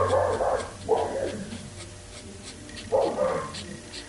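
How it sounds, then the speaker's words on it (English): A dog barks in several loud bursts at someone walking past a front window downstairs, with agitated yelps spaced by quieter gaps indoors. "Evidently someone's walking by the front window downstairs as the dog is freaking out."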